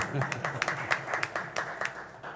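Scattered, fairly faint hand claps at a public hearing, offered in thanks to the stenographer, with distinct individual claps rather than a full crowd, heard over the room's murmur.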